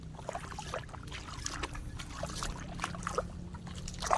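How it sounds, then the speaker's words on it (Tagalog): Water spilling over a roadway near a beach, a continuous close trickling and gurgling flow with small splashes, faint and steady, with no talking. "Apaw na ang tubig."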